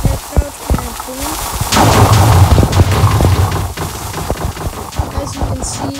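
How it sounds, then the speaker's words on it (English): In the Minecraft video game, a TNT cannon fires a rapid series of loud booms and sharp cracks, followed by a sustained rumbling blast, with more scattered bangs continuing after. "I'm gonna press this lever and I'm gonna press crouch and then boom."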